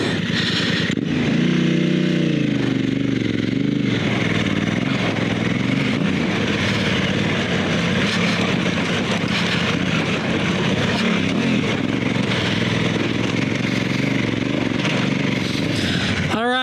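A dual sport motorcycle on Metzeler Karoo 3 adventure rally tires climbs a rocky off-road section, its engine roaring loud and close throughout with a rising rev early on.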